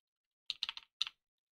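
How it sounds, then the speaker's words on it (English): A few quick keystrokes on a computer keyboard, a burst of three clicks and then a single press, crisp and close in an otherwise silent room. "I'm terrible at typing."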